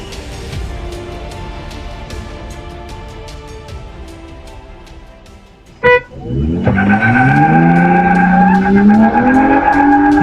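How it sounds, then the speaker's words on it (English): A pickup and a Mercedes street race on rain-wet Los Angeles roads: a steady engine drone, then a sharp thump, then a loud revving acceleration that climbs in pitch and holds close by. "Watch this pickup and Mercedes turn LA streets into their personal racetrack."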